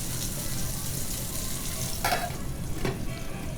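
Potatoes fry with a steady sizzle in a pan while being stirred occasionally, the crackle constant and close, with a couple of brief scraping stirs standing out near the end.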